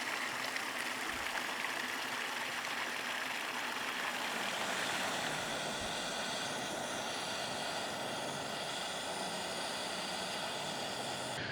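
A small mountain stream on the Ranger Path up Yr Wyddfa in Eryri flows with a steady, even rush of water, nearby and moderately loud, continuous throughout with no talking.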